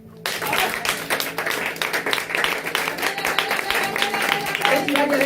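A congregation in a church service claps together to acclaim the Lord, sustained dense applause with steady clapping throughout, while voices and music carry on underneath.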